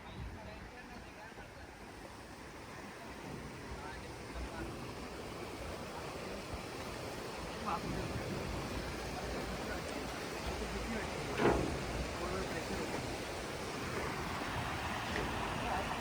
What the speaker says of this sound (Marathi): तर हा तो बंदर आहे छोटासा.